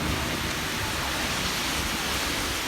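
Steady hiss of rain on a rainy afternoon in Qatar, a constant dense wash of falling water without pauses.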